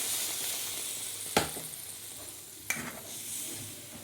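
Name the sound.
water added to sizzling sautéed gravy masala in pan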